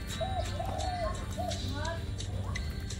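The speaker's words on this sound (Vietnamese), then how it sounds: "mấy con chim cu nó gù nữa." Doves coo softly in the countryside during the rainy season, a few short rounded calls under a steady rural backdrop, with people talking over them.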